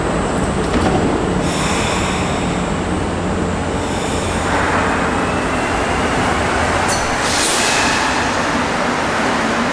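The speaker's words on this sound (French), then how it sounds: "on peut réellement entendre l'ambiance du métro de Montréal" Montreal metro train ambience, a loud continuous rumble and roar of the rubber-tired train in the tunnel, steady throughout with higher whines rising and falling, no talking.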